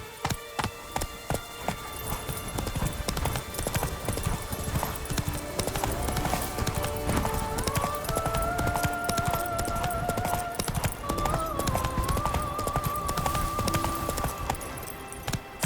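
Roach the horse galloping in The Witcher 3, rhythmic clip-clop of hooves beating steadily and fairly close throughout, with a wavering tonal sound drifting over the middle stretch.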